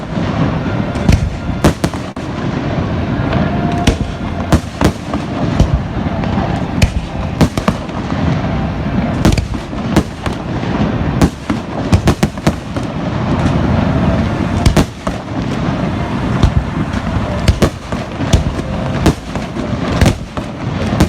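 Fireworks finale with a dense, continuous barrage of loud bursts and crackling explosions, overlapping rapid-fire booms filling the whole stretch.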